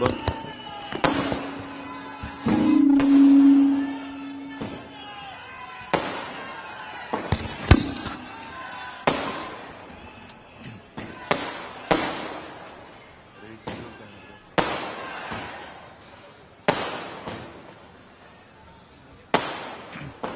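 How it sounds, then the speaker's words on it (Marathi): Firecrackers burst repeatedly at irregular intervals at a political rally, sharp loud bangs echoing over a crowd's murmur and a voice speaking through a loudspeaker. "मागच्या बाजूला जे फटाके वाजतात ते कृपया थांबवावे"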